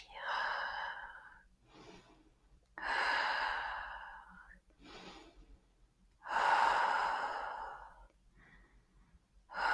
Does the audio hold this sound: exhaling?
yes